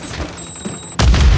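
A Semtex grenade detonates in Call of Duty with a sudden loud, deep boom after a second of quieter battlefield noise, the blast rumbling on to the end.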